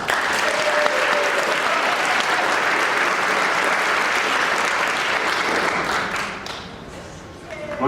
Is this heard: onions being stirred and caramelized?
no